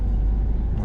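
A car pulls away in second gear as the clutch is released gently during a driving lesson, a short, close, low engine hum with no speech over it.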